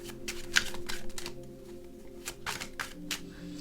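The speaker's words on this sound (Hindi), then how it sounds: "मैं आपके सामने कार्ड्स निकालूंगी।" Tarot cards drawn from a deck for a zodiac reading: a series of brief crisp card slides and snaps at uneven intervals, close by and moderately loud, with no talking.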